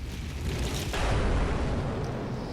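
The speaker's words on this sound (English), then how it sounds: "Explosions continued to ring in the distance" Distant explosions in the Cafe Enchante game, a broad rumbling roar that swells and lingers for a couple of seconds, dense and muffled rather than sharp.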